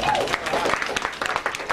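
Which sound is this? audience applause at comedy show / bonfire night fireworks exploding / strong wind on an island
audience applause at comedy show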